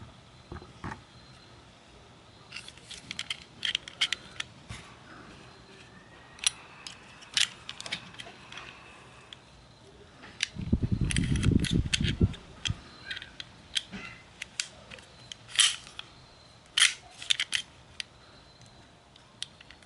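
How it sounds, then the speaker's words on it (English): Sharp mechanical clicks and snaps from a Sig P938 pistol being dry fired, scattered irregularly across a quiet room, with one brief low rumbling handling noise midway; close and crisp, no speech. "We'll do some dry fire testing"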